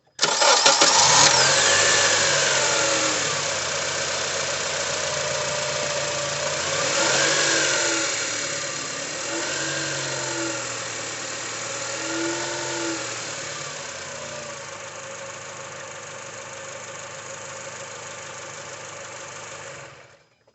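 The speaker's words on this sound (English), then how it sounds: "So let's start the car and see if there are any bubbles on the dipstick." A car engine cranks and catches, then settles into a steady idle with a few slight revs, loud and close with no talking over it.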